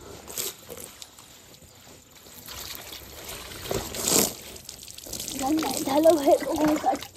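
Water is poured out during household water-fetching in Baitadi, Nepal, in intermittent splashing gushes, with people, including a child, talking nearby, their voices growing louder toward the end.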